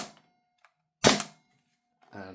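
An airsoft MP9 gas blowback pistol fires a single semi-auto shot from a KSC magazine, a sharp crack between quiet pauses, with brief talk nearby before and after.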